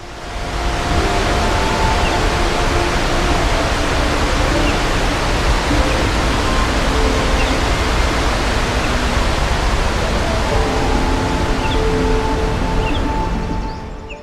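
Roaring water thunders over the Rhine Falls in Switzerland, a dense, constant rushing wash that stays loud and unbroken from start to finish.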